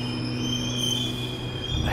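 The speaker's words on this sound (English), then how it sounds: "I hear the train arriving as I descend the stairs." A train arrives at a station with steady humming and high sustained wheel and brake squeal tones, rumbling louder near the end.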